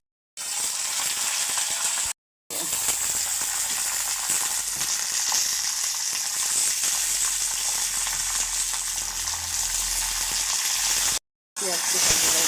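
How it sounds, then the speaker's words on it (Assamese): Raw peanuts fry in a hot pan in a home kitchen, a busy continuous sizzle with crackles and occasional stirring scrapes, close and fairly loud, cut by brief silent breaks. "বাদামটো ভাজি লৈ"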